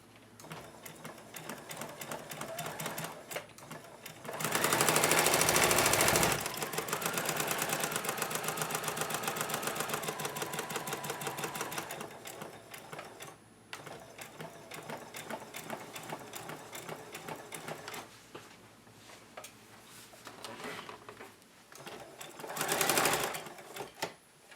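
A sewing machine back-stitches the seam of a homemade fabric face mask, whirring steadily up close in runs of several seconds, with a few louder, faster bursts and short pauses between them.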